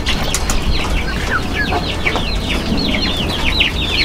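Four-month-old Rhode Island Red chickens cluck and squawk repeatedly in a busy farm pen, with calls close and overlapping, plus a brief flutter of wings early on.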